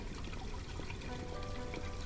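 Running water in the video game Black Mirror 2, a steady, soft pouring and trickling stream heard alone at low level.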